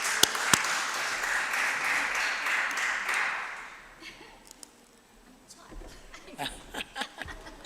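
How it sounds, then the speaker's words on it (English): Dense applause from delegates at a women political leaders summit greets the Thailand delegate, steady for about three seconds before fading into scattered claps and murmuring voices. "Please clap for Thailand."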